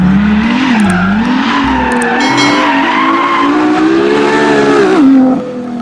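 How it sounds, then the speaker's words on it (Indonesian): Toy race car sound effect of tires skidding and a revving engine, loud and continuous with a wavering squeal for about five seconds before cutting off. "yang ini mobil balap"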